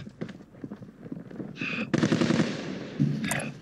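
Gunfire in the video game Call of Duty: Warzone, with rapid automatic bursts and sharp shots over a busy game soundscape, loud and close.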